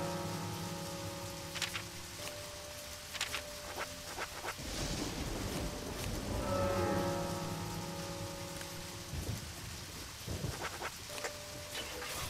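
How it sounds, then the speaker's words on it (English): Rain falls in the video game Deadly Premonition, a steady faint patter with scattered droplet taps and a few brief tonal game sounds over it. "Oh, it's raining."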